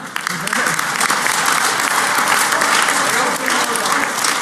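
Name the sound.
audience applause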